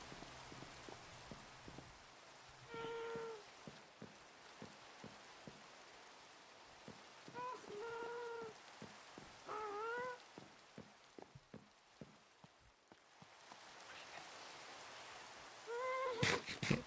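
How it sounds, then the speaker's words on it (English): Steady rain falls in the Minecraft video game, a continuous soft hiss throughout with no talking, broken now and then by short chirping animal-like calls from the game. "I do like a nice soothing rain."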